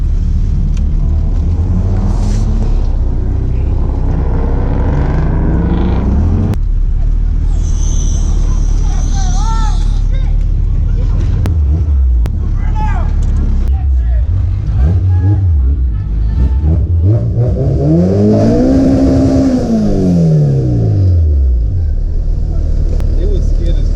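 K24-powered Honda Integra at a loud car meet, engine revving hard and rising in pitch near the end amid crowd babble and shouting people talking over it.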